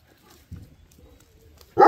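A dog makes low grunting and snuffling noises up close, ending with a sharper, louder bark-like vocalization.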